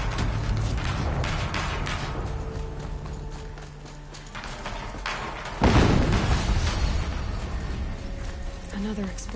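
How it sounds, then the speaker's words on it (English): A sudden loud explosion booms midway through gameplay in Horizon Zero Dawn, standing out against a busy bed of rumbling, clattering game noise before and after. "Another explosion."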